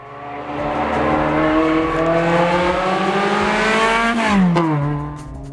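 A Lotus Emira V6 with a six-speed manual pulls away, its engine note climbing loudly through the revs, dropping briefly at a shift and rising again, then easing off into a burbling exhaust.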